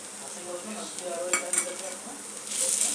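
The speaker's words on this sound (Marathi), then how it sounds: "याला आपल्याला 2 मिनिटं असं परतून घ्यायचं आहे." Ginger, garlic, half a tomato and a little coriander sautéing in a pan for a village-style chicken curry, with a soft steady sizzle and occasional stirring clinks, close and fairly quiet, no talk.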